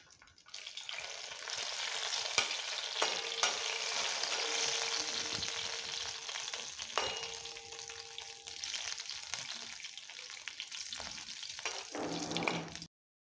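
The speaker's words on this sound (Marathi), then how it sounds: "इथे आपण फोडणी तयार करून घेऊ। थोडीशी जिरी," Cumin seeds and dried red chilli hit hot oil in a small pan for a tempering for dal khichdi, giving a loud, steady crackling sizzle that runs for several seconds, with occasional clinks and stirring, then stops abruptly.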